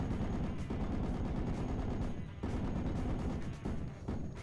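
A Vulcan anti-aircraft gun firing in a video game, a continuous dense roar of rapid fire with a few brief breaks, loud and close.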